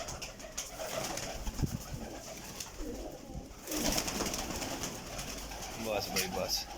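Pigeons at a pigeon dealer's coo softly in several low, repeated calls, with wing flutters and shuffling nearby, while people talk intermittently in the background.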